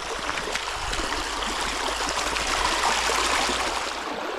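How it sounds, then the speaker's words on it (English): Mountain stream water rushing steadily along a rocky course in Morocco, a continuous broadband wash with no pauses, close and fairly loud, with no voices. "It's mountain water coming from the mountain all the way over there."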